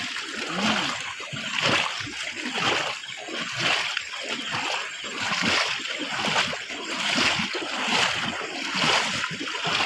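Repeated splashing and sloshing through knee-deep floodwater after heavy night rain, rhythmic like steps wading, with a few faint voices in the background.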